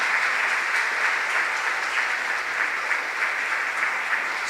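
A congregation applauds in a sustained, dense wash of clapping with faint rhythmic pulses, steady and fairly loud throughout, with no talking.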